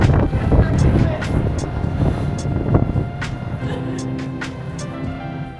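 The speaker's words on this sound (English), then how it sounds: "it's windy" Gusts of wind buffet an outdoor microphone during drone flying, loud rough rumbling that is strongest early and gradually eases, with a voice speaking briefly over it.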